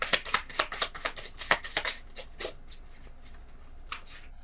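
A deck of tarot cards is shuffled close up in a quick run of crisp riffling snaps that fade into a few softer shuffles and then near quiet.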